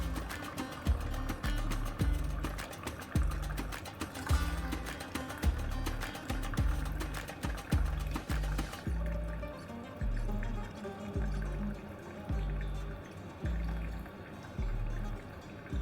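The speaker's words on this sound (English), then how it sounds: "So let's bring the pot over to the mug and pour." Cardamom chai poured from a pot through a strainer into a mug, a steady liquid stream with repeated soft knocks and drips, then a quieter trickle as the pour tapers off.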